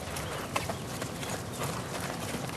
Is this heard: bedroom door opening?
no